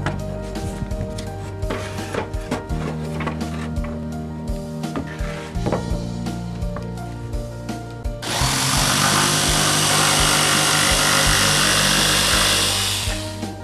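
A power tool cuts wooden stool legs to length, a steady machine whine with loud broadband cutting noise that swells and grows denser in the last few seconds, no talk.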